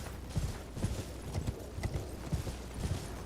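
A horse gallops in the video game Elden Ring, its hooves making quiet, steady clip-clop beats in a quick rhythm under a soft background.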